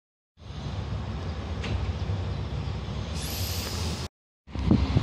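Czech Railways passenger train on line S60 pulling out of Beroun station: steady low rumble of running gear, a rising whine near the end, then a brief drop to silence before the noise resumes.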